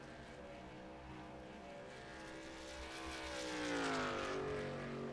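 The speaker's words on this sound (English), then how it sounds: "Let's turn these engines up" Race car engines at Darlington during a throwback event drone together at fairly low volume, their pitch climbing and the sound swelling toward the end as the cars are revved up.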